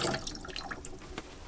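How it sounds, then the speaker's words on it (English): Water poured into a camper van sink gurgles and trickles as it drains, a steady close splashing flow with a few drips, fading slightly over a brief moment with no talking. "Keep pouring water."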